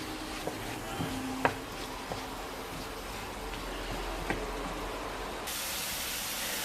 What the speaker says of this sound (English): we're going to keep frying this off until everything is nice and translucent and shiny